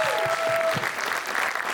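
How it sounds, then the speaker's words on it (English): Applause from a live audience at a stock-market talk show staged outdoors at South Street Seaport, a steady dense wash of many hands clapping at moderate loudness throughout, with no talking over it. "Give yourselves a round of applause."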